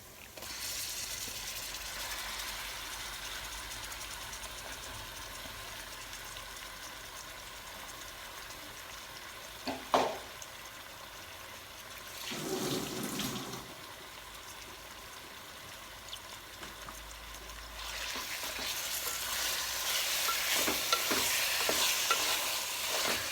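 Prawns being stirred into marinade in a pot for prawn dum biryani, giving a steady scraping, frying-like hiss with a sharp clatter near the middle and busier stirring toward the end, close up with no talk.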